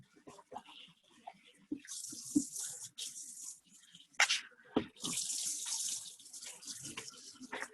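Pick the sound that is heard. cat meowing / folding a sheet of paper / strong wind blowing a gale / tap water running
tap water running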